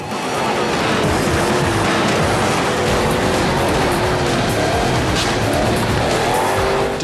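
Off-road buggies race in a rally video game, engines buzzing loud and continuous as tyres squeal and skid through fast turns, with no talking over the racing.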